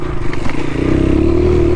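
A Honda XR100R dirt bike engine pulls hard as it accelerates, its pitch rising steadily, close and loud with some clattering and scraping mixed in.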